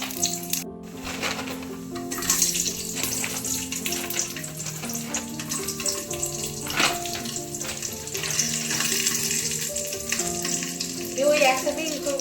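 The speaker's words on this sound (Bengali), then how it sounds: "আগে কাজুটা ভেজে নেব।" Cashews fry in hot oil in a home kitchen pan, giving a loud, steady crackling sizzle with occasional stirring scrapes and clinks throughout.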